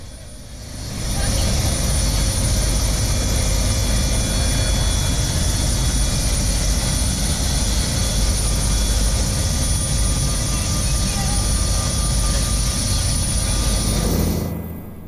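A BLADE helicopter flying from Manhattan to JFK gives a loud, steady rotor and turbine roar that holds constant from start to near the end, heard close from inside the cabin.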